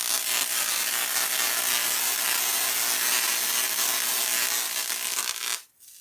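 A Tesla coil with a PVC-wound secondary and tuned topload powers up and discharges, a loud, harsh, continuous buzzing crackle that holds steady for about five seconds, then abruptly stops.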